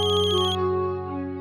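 A phone rings with an incoming call, a loud, close melodic ringtone sounding by itself in one short tonal phrase.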